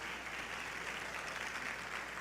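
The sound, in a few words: applause in a church service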